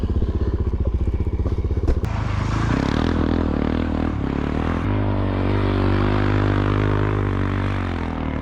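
A Suzuki DRZ supermoto motorcycle, back running after a JB Weld repair, revs loudly up close, a choppy idle giving way to a sustained throttle pull with shifting engine pitch as it rides off.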